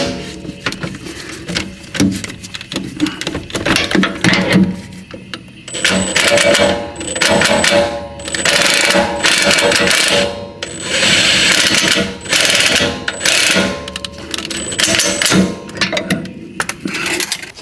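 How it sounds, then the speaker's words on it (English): Ratchet tightening the brake caliper bolts on a Nissan 370Z during a brake upgrade, rapid clicking strokes in repeated bursts, loud and close, with no talk. "Now we just gotta tighten the caliper bolts"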